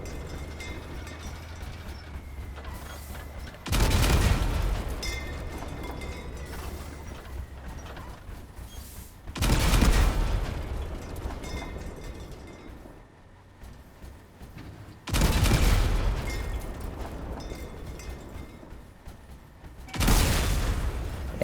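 Heavy weapon blasts in the vehicle combat game Crossout: four loud, booming shots land several seconds apart, each with a long rumbling decay, over a constant mechanical engine drone.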